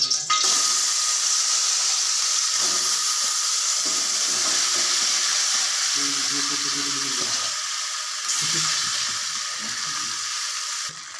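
Steady, loud sizzling of soaked, coated chicken pieces for chicken Manchurian frying in hot oil, continuous throughout with faint clinks and stirring underneath.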